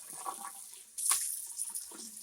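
Tap water runs over a pair of freshly cut Minnesota walleye fillets, with a quiet trickle that surges into a louder, steady gush partway through before easing off, close by and with no talk.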